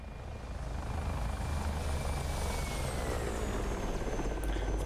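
Mi-24P Hind attack helicopter flying in the DCS flight simulator, a steady rotor and turbine roar with a faint whine above it, continuous and fairly close, with no speech.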